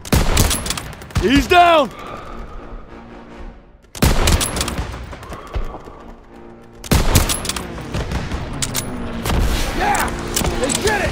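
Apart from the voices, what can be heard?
gunfire in video game Call of Duty WWII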